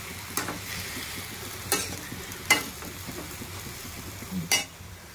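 Tomato and gongura (sorrel) leaves cooking down in a pan with curry leaves to follow, a soft steady sizzle broken by a few sharp spoon scrapes and stirs against the pan.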